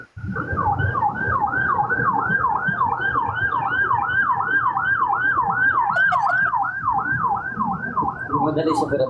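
An ambulance siren wails nearby, a loud, rapidly repeating rising-and-falling yelp cycling steadily with traffic rumble underneath.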